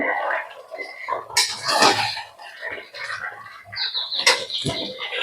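A lid comes off a pot of mutton curry with potatoes, giving a few close metallic clinks and clatters of cookware against a quiet kitchen background.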